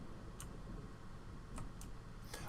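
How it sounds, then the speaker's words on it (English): A clock in a video game ticking faintly, a few sparse, sharp ticks over a low steady background hum, with no speech. "Oh, snap. There's a clock."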